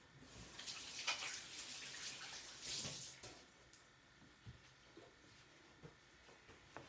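Hands are washed under a running kitchen tap, a close, soft splashing water stream that rises and falls for a few seconds before trailing off into light drips and handling sounds.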